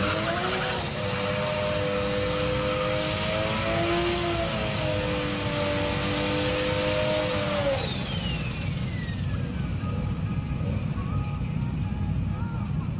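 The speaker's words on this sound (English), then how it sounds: "now do a burnout" An HPI RC drift car does a burnout, its high electric motor whine holding steady then falling away after several seconds, with constant loud roaring noise underneath and a faint later whine.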